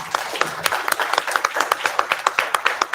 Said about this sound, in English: I think he needs a clap.